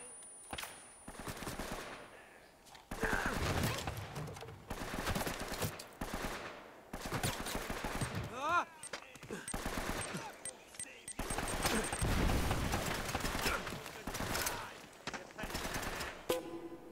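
Gunfire in Uncharted: Drake's Fortune rattles in repeated dense volleys, like automatic weapons, with short gaps between them for the full length. A voice breaks in now and then.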